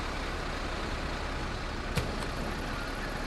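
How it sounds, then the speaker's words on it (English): A brand new bus in Bus Simulator 21 idles with a steady, dense engine rumble that fills the whole stretch, broken once by a brief click near the end. "Doesn't that engine sound wonderful? I just love the sound."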